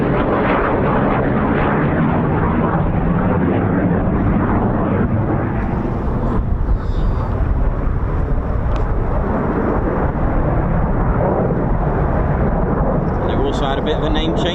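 Military jet aircraft flying at RAF Lakenheath with the USAF 48th Fighter Wing, F-15 and F-35 types, a loud continuous roaring rumble that fills the whole stretch without letup.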